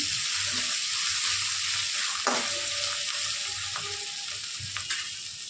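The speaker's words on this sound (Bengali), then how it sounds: "এবার আদা বাটাটা দিয়ে দিচ্ছি। ভালো করে মিশিয়ে নিচ্ছি।" Ginger paste stirred into Pabda fish curry frying in oil, a steady bright sizzle throughout with occasional soft spoon scrapes against the pan, close and continuous with no talking.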